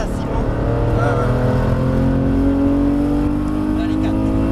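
A GT3 race car accelerates on a circuit, its engine note loud and close, rising steadily in pitch as it pulls through the gears, with continuous roar and no pauses.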